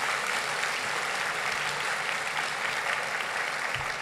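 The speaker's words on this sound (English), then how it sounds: "So again, can we give Ms. Mary Williams a warm round of applause, please?" An audience at a university forum gives a warm round of applause, a dense, even roar of clapping held steady throughout.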